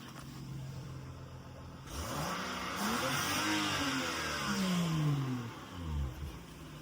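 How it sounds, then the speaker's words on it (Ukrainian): A 2012 BMW X5 E70 xDrive35i engine idles, then revs up twice in quick succession, each rise in pitch clearly audible before settling back down. "давайте два рази прогазуємо для любителів марки, думаю, буде цікаво. Почути звук"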